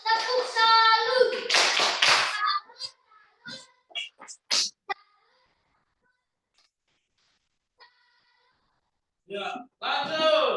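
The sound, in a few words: group doing a rhythmic 'tepuk salut' clapping routine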